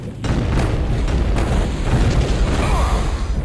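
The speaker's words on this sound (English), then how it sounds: "Chinese New Year fireworks!" Chinese New Year fireworks exploding in the Shadow Warrior video game, a dense, loud burst of rumbling booms and crackling pops running continuously throughout.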